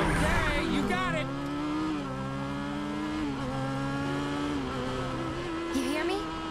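A motorcycle engine in Final Fantasy 7 Remake drones and revs steadily, its pitch rising and dipping with the throttle, continuous and up close beneath a chase soundtrack.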